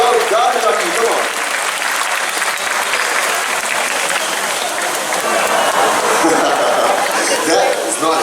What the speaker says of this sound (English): He needs a louder round of applause.